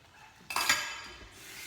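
Dishes being washed after cooking a century tuna omelette, a sudden close clatter of plates and cutlery clinking together, fading into a light rattle over under two seconds.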